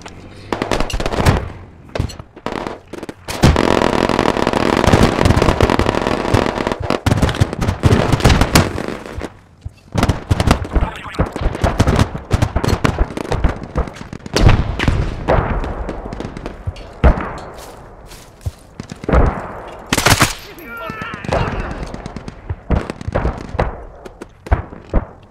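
Gunfire in the tactical shooter game Squad: a sustained, loud stretch of rapid automatic fire, then scattered sharp single shots and short bursts, some close and some farther off, with no talking.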